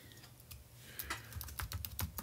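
A note title being typed on a computer keyboard in a Bible study app, with a quick, close run of key clicks in an irregular rhythm that gets busier and louder toward the end.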